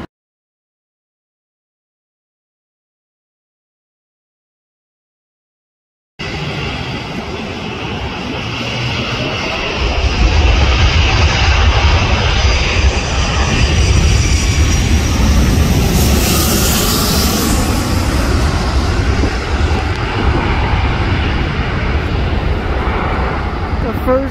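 A Korean Air airliner landing at LAX heard from a spotting position, a steady roaring jet engine wash that swells loud and holds after a silent start.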